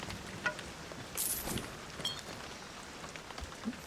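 Rain falls in the Thief video game, soft and fairly quiet, with scattered drips and patters landing on surfaces among a light hiss and a few sharper splashes.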